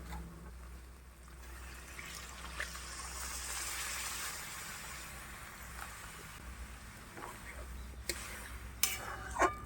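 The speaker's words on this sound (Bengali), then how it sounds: "এবার আমি এর মধ্যে দিয়ে দেবো জল" Water poured into a pan of spiced peas being cooked for ghugni, a steady broadband gush and trickle running through most of the stretch, with a few small clinks near the end.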